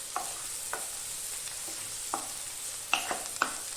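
Sliced onions sizzle gently in a pan for chicken roast while a spatula stirs them, giving a soft steady fry under several distinct scraping strokes and a cluster of clinks near the end.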